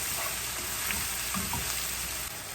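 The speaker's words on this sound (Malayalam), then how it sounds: "എന്നിട്ട് നല്ലതായിട്ടൊന്ന് ഇളക്കി കൊടുക്കണം." Onions frying in a pan for beef masala, a dense continuous sizzle held close and steady, with faint stirring touches and no voices.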